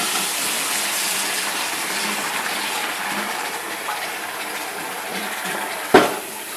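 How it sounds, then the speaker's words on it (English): Water gushes steadily out of a pan of cooking chicken as it is drained, a continuous hissing pour ending in a single sharp knock. "Drain the water off."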